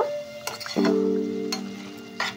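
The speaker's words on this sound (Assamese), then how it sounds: "চেনিটো লাহে লাহে গলি আহিব, একেবাৰে লো ফ্লেমত এনেকৈ ভাজি থাকিব লাগিব।" Carrots with sugar fry on a low flame for gajar halwa, a soft sizzle beneath a few crisp scrapes and clinks of stirring, with a steady tonal hum running through most of the stretch.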